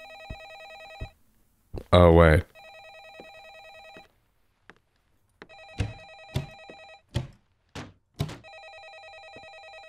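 A telephone rings in a horror video game, repeated electronic trills sounding in bursts with short gaps, close and clear, while a person speaks briefly over it and a few thuds and clicks mark the pauses.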